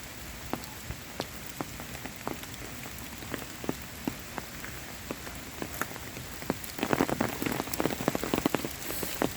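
Rain falls on a red clay walking path with a steady soft hiss and scattered distinct drops, thickening into a denser patter near the end, with no voices.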